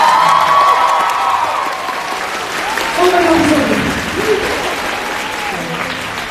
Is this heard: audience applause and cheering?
yes